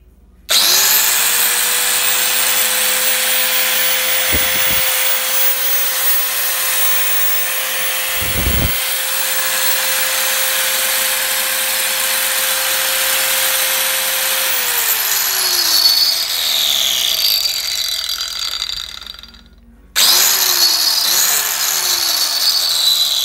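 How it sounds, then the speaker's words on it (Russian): A DeWalt electric tile cutter motor runs at a steady loud whine after a switch-on click, holding an even pitch with two brief knocks, then winds down and stops before briefly restarting. "Плиткорез работает ровно, четко, ничего нигде не искрит, не пахнет."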